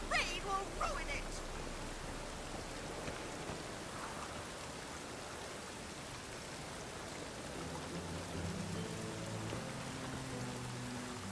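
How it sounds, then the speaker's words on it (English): Steady rain falls in The Witcher 3: Wild Hunt, an even close hiss of drops spattering on surfaces throughout, with a few brief softer background sounds near the start. "The rain will ruin it."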